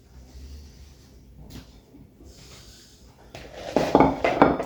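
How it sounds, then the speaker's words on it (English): A plate being grabbed from a kitchen cupboard: quiet rustling at first, then a cluster of close ceramic clinks and knocks of dishes being handled near the end. "Grab a plate."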